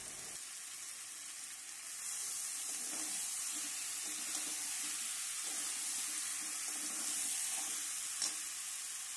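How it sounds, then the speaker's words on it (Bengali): A little water from a rinsed spice container goes into frying potato and pea masala in a pan, bringing on a steady, close hissing sizzle with faint stirring knocks, and no talking. "মশলার কন্টেনারটা ধুয়ে আমি একটু অল্প জল দিয়ে দেবো"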